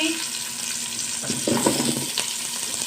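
Onion, chayote and taro toasting in a pan for a Bisaya pork hock dish, with a continuous close sizzle and a few brief stirring scrapes in the middle.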